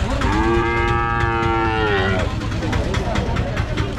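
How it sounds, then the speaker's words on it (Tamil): Native-breed cattle at a livestock market let out a long, loud, tonal moo in the first two seconds, then a busy market din of low rumble and scattered noise continues. "மாடுங்களாம், இந்த லைன்ல இருக்கெல்லாம் ஃபுல்லா நாட்டு மாடுங்க."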